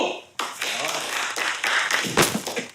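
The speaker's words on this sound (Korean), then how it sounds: "박수!" A police team's office celebration after receiving a commendation, with a burst of close, irregular hand clapping from several people over a few seconds, mixed with talk and cheerful voices.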